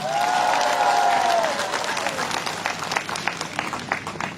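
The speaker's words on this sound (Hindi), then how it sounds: "ACF के लिए जोर से ताली हो जाए" Crowd at a political rally in Arunachal Pradesh applauding and cheering loudly, many hands clapping in a dense wash with scattered shouts, a loudspeaker voice ringing briefly at the start.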